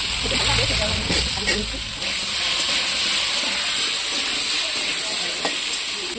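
Potatoes going into chicken curry in a pot on a wood-fired clay stove, heard as a steady close sizzle and hiss of frying with a few soft knocks, while someone talks over it.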